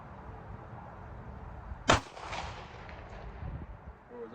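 A single sharp Glock 48 pistol shot fired outdoors at a distant target 200 yards away, loud and abrupt, followed by a brief fading outdoor echo over faint background noise.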